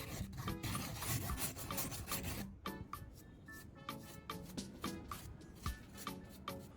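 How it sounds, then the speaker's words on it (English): Loose rust and dirt are scraped off a metal roof sheet in a series of sharp, gritty rasping strokes, close and fairly loud, with a continuous scrape at first and then separate strokes. "So I remove the loose rust and dirt first."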